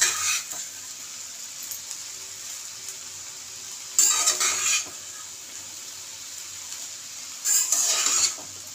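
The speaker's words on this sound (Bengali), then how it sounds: "এবার আমি আস্তে আস্তে এটাকে নেড়ে নেব।" Fried rice is stirred in a hot pan with a utensil, giving two bursts of scraping and sizzling over a steady low frying hiss, with no talking.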